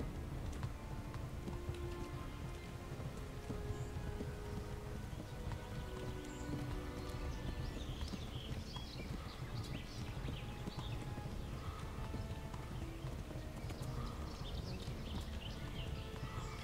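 A horse ridden through medieval Bohemia in Kingdom Come: Deliverance clip-clops at a steady walking rhythm, hooves close and continuous over a soft ambient outdoor background.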